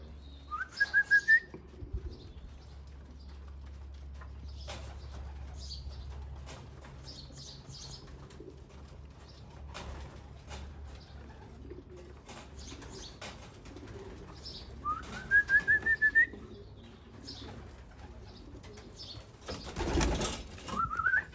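Racing pigeons in a trap training session at a loft, with soft cooing, wing flaps and rising whistles repeating twice, plus a louder flurry of flapping near the end against quiet background.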